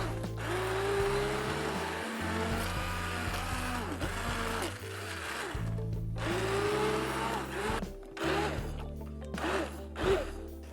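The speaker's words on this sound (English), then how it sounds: "let's bring this over here and we're going to whiz this up with a blender" Electric blender whizzing softened cooked peas for a soup, a steady loud motor whir running throughout with brief dips and surges as the contents churn.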